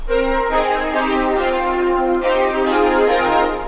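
A bright, bell-like synthesizer patch plays a short sustained melody, rich in ringing overtones, loud and close with no voices.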